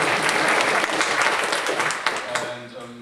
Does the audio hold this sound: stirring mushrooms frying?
no